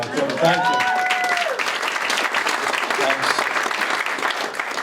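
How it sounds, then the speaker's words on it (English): A crowd applauds steadily and loudly throughout, with a voice speaking briefly over the clapping at the start. "Thanks for clapping."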